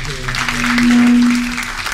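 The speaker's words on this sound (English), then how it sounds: "Let's give them a round of applause." An audience gives a round of applause, a brief swell of clapping that peaks in the middle and fades, with a sustained electronic tone sounding over it.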